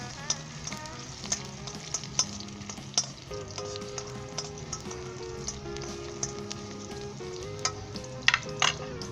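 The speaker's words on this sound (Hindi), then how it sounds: "इसे लाइट गोल्डन ब्राउन होने तक फ्राई करें।" Garlic and ginger frying in oil in a pan until light golden for a vegetarian pasta-noodle dish, a steady close sizzle with scattered crackles and occasional stirring clinks, with no talk.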